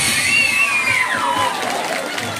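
Concert crowd cheering and shouting at a live show in Mariano Moreno, with high whoops and a rising whistle-like cry over a steady roar of voices and a faint low rhythmic thump beneath.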